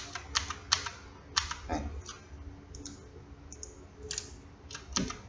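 Computer keyboard keys tapped in short bursts and single clicks while Blender undo and redo shortcuts are entered, close and crisp with uneven rhythm, with faint background sounds between keystrokes.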